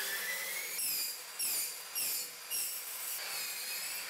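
A saw with a tungsten carbide-tipped (TCT) general-purpose blade cuts in several short passes. Each pass brings a brief, louder rasping whine over a steady scraping grind, with no voices.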